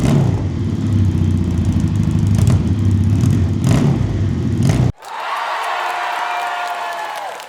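A Suzuki GS150 cafe racer fitted with a 350cc engine runs loud and close with a steady rumbling drone, then cuts abruptly to a higher, thinner whirring tone that holds to the end.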